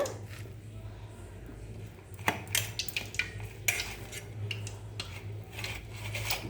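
A spoon stirs cumin into an onion-ginger vada batter, giving soft scraping and a few sharper clinks against the bowl over a quiet background hum.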